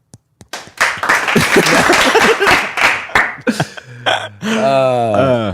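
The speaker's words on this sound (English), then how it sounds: "Corey claps, it just sounds like this." A man with small hands claps in a quick run of sharp, thin, close claps, then a voice and laughter follow.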